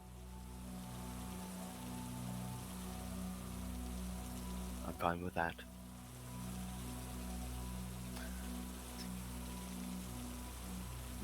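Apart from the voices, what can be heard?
pouring rain sound effect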